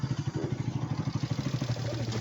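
A motorcycle idling near a resort gate in Kaziranga, its engine chugging with a close, regular low putter that steadies into an even hum as it settles to a stop.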